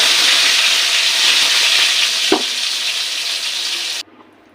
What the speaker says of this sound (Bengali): এবার আমি এই বেগুনগুলোকে প্রথমে একটু হালকা করে ভেজে নেব।